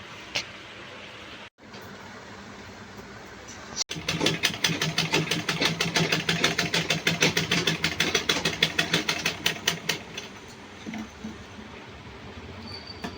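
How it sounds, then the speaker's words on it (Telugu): An electric sewing machine stitching torn pants at home runs in a fast, steady rattling burst for several seconds after a quiet start, then slows and stops, close and fairly loud with no talking. "ఈ ప్యాంట్ అయితే కుడుతున్నాను."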